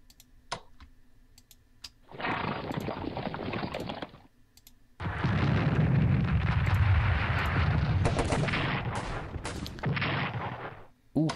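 Artillery defense fire in the Strategic Command World War I strategy game, Defense of France campaign: a burst of booming blasts for about two seconds, then a longer, louder roll of rumbling explosions with sharp cracks, with clicks scattered between.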